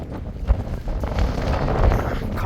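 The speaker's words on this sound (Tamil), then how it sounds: "காற்று சரி காற்று." Outdoor wind gusts across the microphone during a walk, producing a low, rumbling buffet that swells and eases, with stronger surges near the start and middle.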